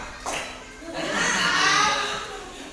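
Children clap along in a classroom clapping chant game, with a burst of claps near the start followed by a longer, louder stretch of rhythmic group clapping mixed with children's voices and light laughter.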